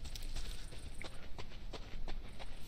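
In the game Deadside, faint footstep-like thuds sound behind a player who has just stopped moving, a string of soft, evenly spaced steps that sits quietly in the background.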